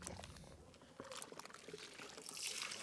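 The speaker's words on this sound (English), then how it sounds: "We'll go back to your rinse bucket, sink it at the bottom, scrub it at the dirt trap" A car wash mitt is sunk and scrubbed at the bottom of a rinse bucket against a dirt trap, giving faint, continuous sloshing and trickling water with small splashes, close by and heard without talk.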